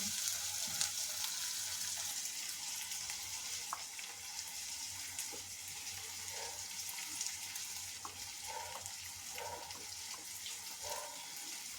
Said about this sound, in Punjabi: ਆਪਣੇ ਪਿਆਜ਼ ਭੁੱਜ ਰਹੇ ਹੋਗੇ